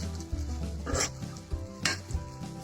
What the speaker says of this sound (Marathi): साबुदाण्याला इथे परतून घेऊया.